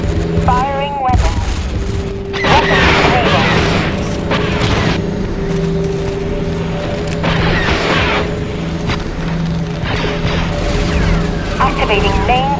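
Weapons fire from spaceships in Star Wars Thrawn's Revenge, a space strategy game, with repeated booming blasts and crashes over a steady engine drone, while voiced unit responses speak between the shots.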